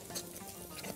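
Meat being stirred as it fries in a pan, a short stretch of soft sizzling with light scraping and patter, close and quiet, lasting about a second.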